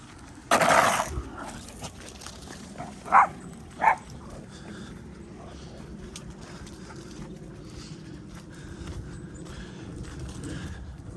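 Dogs outdoors give one sharp bark early, then two shorter barks a few seconds apart over a quiet outdoor background.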